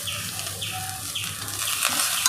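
Chopped beetroot, carrot and beans stirred in a hot pan on an open flame crackle with a light, continuous sizzle, along with faint scraping and a few high chirps in the background.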